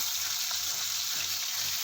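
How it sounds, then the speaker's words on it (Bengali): Pomfret fish fry in hot oil, giving a steady, close hiss of sizzling that carries on evenly with no voices. "এবারে ওই তেলের মধ্যে বাকি যে মাছগুলো আমার বাকি রয়েছে ভাজা সেগুলোকেও ভেজে নেব"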